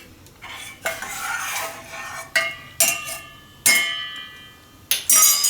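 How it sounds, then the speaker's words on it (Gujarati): A spoon stirs a cold cocoa mixture for Surti cold coco in a metal or glass vessel, giving several close, bright clinks and scrapes, some sustained, with no voices. "હવે આને આપણે મિક્સ કરી લેવું. તો એકદમ અસલ અંદર ગાંઠા ના રહે એ રીતે મિક્સ કરી લેવાનું."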